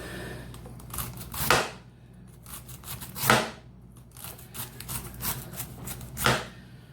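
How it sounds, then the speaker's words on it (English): A kitchen knife slices food as thinly as possible on a cutting board, making sharp, repeated chopping strokes in uneven bursts with three louder hits standing out, all close and clear. "you want to try to slice it as thinly as possible"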